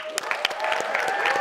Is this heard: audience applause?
yes